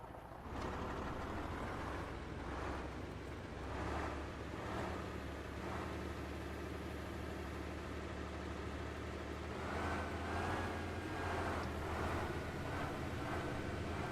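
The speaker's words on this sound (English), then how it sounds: "I know this stupid truck is loud." A loud truck engine in the video game DayZ drones steadily throughout, a heavy continuous rumble with rising and falling revs and no talking over it.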